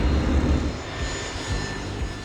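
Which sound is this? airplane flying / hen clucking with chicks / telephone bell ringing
airplane flying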